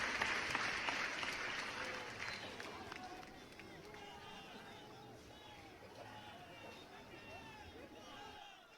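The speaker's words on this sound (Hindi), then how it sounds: "एक बार जोरदार ताली के साथ।" A crowd at a political gathering about a legislator's demands to the chief minister bursts into loud broadband applause that fades after a few seconds, leaving murmuring voices and someone talking over the hall.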